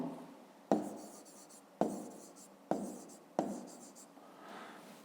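A pen writes numbers on paper, four distinct taps, each followed by a short scratchy stroke at an even, unhurried pace, close and quiet with no talk.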